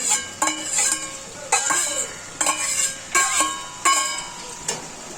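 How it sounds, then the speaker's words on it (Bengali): Crabs tipped into a hot pan for crab rezala, with sharp metallic clanks of a spoon against the pan recurring roughly every second over a steady sizzle, close and fairly loud. "এবার আমি সব কাঁকড়াগুলো দিয়ে দিচ্ছি"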